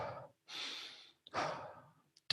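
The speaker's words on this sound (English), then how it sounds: "We're going to take 20 to 30 rapid breaths" A person takes rapid deep breaths as a breathing exercise, two long close inhale-exhale rushes with a short pause between, fairly quiet.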